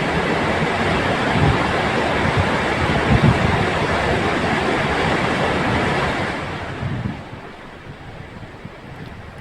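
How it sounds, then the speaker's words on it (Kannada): The Krishna river roars through the opened gates of the Basavasagar dam in a dense, continuous rush of water, loud and steady before easing slightly toward the end. "ನದಿ ತುಂಬಿ ಹರಿತಾ ಇದೆ, ಒಳಹರಿವು ಕೂಡ ಹೆಚ್ಚಾಗಿದೆ"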